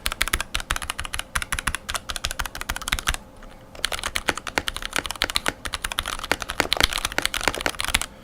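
Rapid typing on a lubed mechanical keyboard, dense clacky keystrokes with a brief pause midway, close and crisp, no voices.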